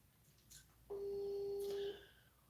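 An outgoing telephone call ringing through to a farmer named Edwin: a single steady ringback tone lasting about a second, fairly clear against quiet room noise, with no one talking.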